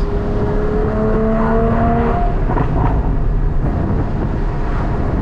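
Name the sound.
Porsche Cayman GT4 exhaust backfires with Dundon long tube headers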